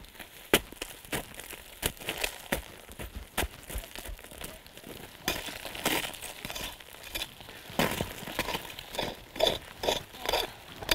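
Snow is beaten down by hand to make a standing platform on a winter mountain slope before crampons go on, giving close, fairly loud crunching thumps in an irregular, repeated rhythm with no talk.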